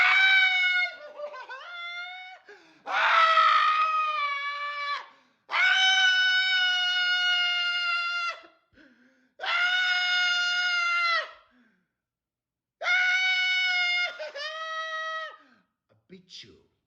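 A man screams in five long, loud, sustained bursts separated by short silences, each shrill and strained, some breaking or wavering toward the end.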